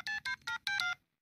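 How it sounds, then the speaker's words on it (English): A cell phone keypad is dialed in an animated comedy scene, giving four quick touch-tone beeps at an uneven pace, close and clear, before falling silent. "I'm going to call Mahmoud right now on this cell phone he gave me."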